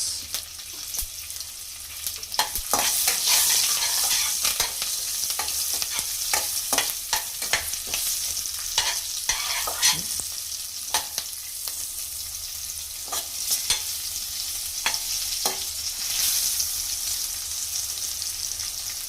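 Green chillies and onions frying in a pan with curry leaves for an Indian steamed egg curry, a steady close sizzle with repeated scraping and stirring clicks throughout, no talk.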